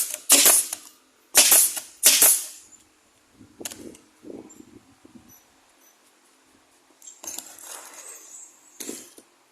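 A nail gun fires while a cabinet is being assembled. A few loud, sharp pneumatic bangs come close together, separated by quieter clicks and handling knocks, then more shots follow after a pause.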